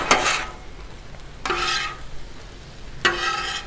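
Chicken stir fry with garlic being stirred on a 36-inch Blackstone griddle, three distinct scraping, sizzling strokes about a second and a half apart over a low steady sizzle, close and fairly loud, no talking.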